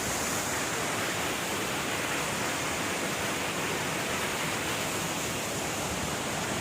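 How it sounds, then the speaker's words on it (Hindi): Steady roar of Neer Waterfall near Rishikesh, Uttarakhand: loud, continuous broadband rush of falling water filling the whole clip with no pauses and no voices. "ये है वाटरफॉल"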